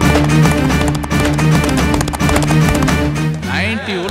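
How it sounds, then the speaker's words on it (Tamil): A horse pulling a cart clip-clops at night in a Tamil action film, with loud, close hoofbeats in a steady repeating rhythm and a voice-like wavering sound near the end. "இந்த நேரத்துல என்னடா குதிரை சத்தம் கேக்குது?"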